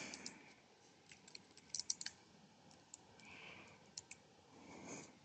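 Light, quiet typing on a computer keyboard, a few quick bursts of soft key clicks with a couple of sharper taps, heard alone at close range.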